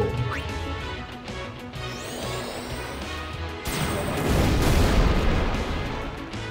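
Explosions in the video game Final Fantasy X, a crashing blast followed by a sustained loud rumbling boom that swells toward the end, with game music and effects around it.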